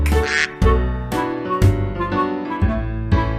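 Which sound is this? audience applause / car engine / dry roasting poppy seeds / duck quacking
duck quacking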